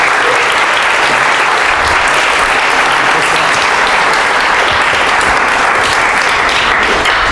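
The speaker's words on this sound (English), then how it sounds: "can we give another round of applause to Dan?" Sustained, dense applause from the audience at an Ethereum developers meetup in San Francisco, loud and steady throughout with no voices breaking through.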